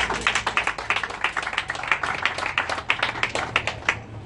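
An audience at a community meeting claps loudly, with a dense run of overlapping hand claps that carries on steadily for several seconds before trailing off at the end.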